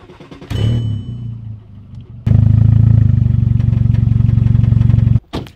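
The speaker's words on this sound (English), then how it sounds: "So the exhaust is broken in my car" A small car engine with a broken exhaust idles roughly, then revs into a loud, steady, rattling roar with a harsh, blatting exhaust tone before cutting off abruptly near the end.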